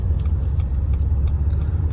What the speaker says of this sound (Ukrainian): плавненько набирає автомобіль оберти